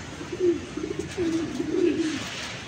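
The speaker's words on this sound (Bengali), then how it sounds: "এই কবুতরটা দেখেন" A male racing pigeon coos nearby in a soft, low, rolling rhythm, with several repeated cooing phrases in close succession.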